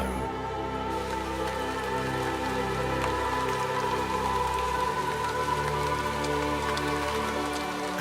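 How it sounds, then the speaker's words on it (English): Heavy monsoon rain pours steadily onto a northeast India rainforest, a dense, continuous hiss of drops striking foliage and surfaces at an even, loud level throughout. "Storm clouds are funneled into the northeast, and with nowhere else to go, they are forced to drop their deluge onto the land below."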